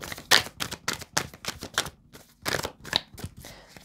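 Rapid riffling and snapping of tarot cards being shuffled, a quick series of crisp bursts close by.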